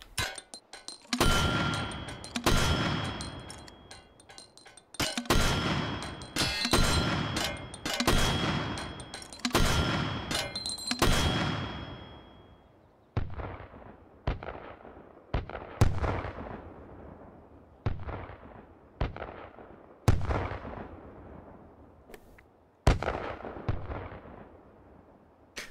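An M224 mortar fires again and again in the VR game Hot Dogs, Horseshoes and Hand Grenades: about fifteen sharp, loud booms, each with a long fading echo, coming quickly at first and then more spaced out.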